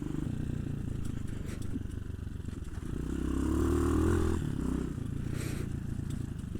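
A Hawk 250 motorcycle tips over and falls, a muffled scraping clatter and a heavier thump rising briefly over quiet background.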